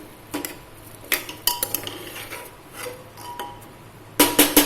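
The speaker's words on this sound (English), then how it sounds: "I've already added rice into the pot, and so we will give it a stir." Metal spoon scraping and clinking against a pot while rice is stirred for capsicum and potato pulao, several sharp close taps and scrapes spaced irregularly, ending in a louder burst of clatter.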